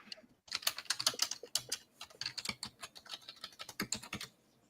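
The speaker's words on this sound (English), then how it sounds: "it sounds like a mechanical keyboard" Fast typing on a mechanical keyboard, close and crisp, in rapid clattering bursts of key clicks with brief pauses between phrases.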